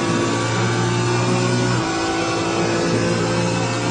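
A car engine accelerates as a sound effect, a loud, steady droning roar that holds strong throughout, with a low musical bed underneath.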